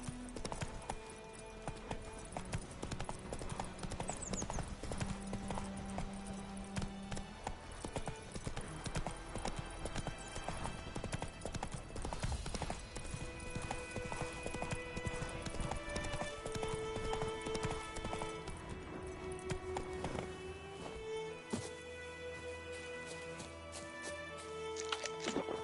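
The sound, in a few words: horse galloping, hooves clip-clopping, from video game The Witcher 3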